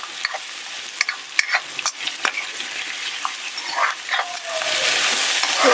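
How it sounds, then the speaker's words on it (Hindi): Onions frying in hot oil for aloo kanda Maggi give steady close sizzling, broken by scattered stirring clicks, with the hiss swelling louder toward the end. "तो ऑयल जैसे ही गर्म हो जाए हम पहले इसमें प्याज डाल देंगे।"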